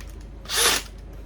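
A power drill fitted with a right angle attachment whirs in one short burst of about a third of a second, close and fairly loud against quiet background hiss.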